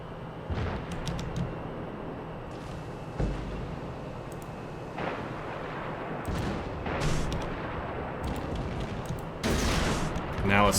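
St. Louis ship guns firing in World of Warships, booming salvos scattered among continuous game rumble and engine noise, several heavy blasts at irregular intervals, with someone talking over them throughout.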